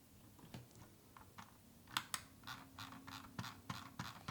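Logitech MX Anywhere 3 mouse scroll wheel spinning freely on a desk, a faint, soft whirring and light ticking that rises and falls in short bursts.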